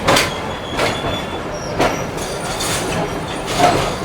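Karakoram Express passenger train in a new rake rolling along the rails, a loud close rumble with rhythmic rail clatter and faint wheel squeal throughout, no voices.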